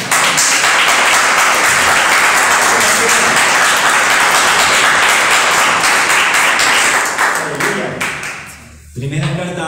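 A congregation gives sustained, dense applause during a Spanish-language sermon, loud and steady for most of the stretch before thinning out, with a voice coming in near the end.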